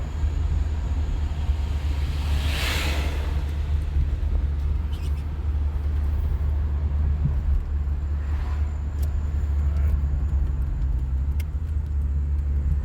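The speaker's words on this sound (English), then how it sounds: "Feels like it surges and the engine wants to fight the brakes." Steady engine rumble from inside a car at low speed, with the engine surging against the brakes, a continuous drone with faint swells and some background voices.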